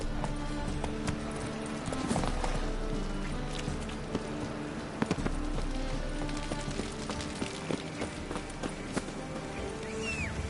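Roach the horse gallops in The Witcher 3, with rapid rhythmic hoofbeats close and steady over game ambience and music, and a short neigh near the end.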